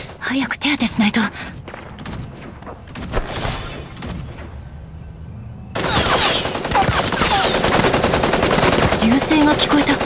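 Bursts of rapid gunfire in the video game Super Mecha Champions crackle loudly, then give way to a dense, sustained barrage of shots and explosions with brief voices mixed in.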